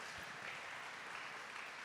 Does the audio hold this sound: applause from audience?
yes